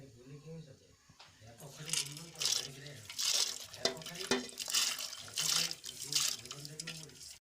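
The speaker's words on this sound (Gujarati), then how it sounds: "એને આપણે ગરમ પાણીમાં ઓરી દઈશું" Washed lentils for dal bati are tipped into hot water on a wood-fired chulha, making a close splashing, running-water sound that comes in several surges while someone talks over it.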